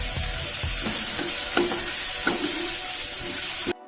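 Small shallots sauté in a pan over a medium flame, making a dense, continuous sizzle with a few sharp stirring clinks, loud and close, before the sound cuts off abruptly at the end.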